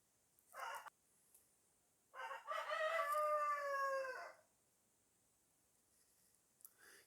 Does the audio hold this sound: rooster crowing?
yes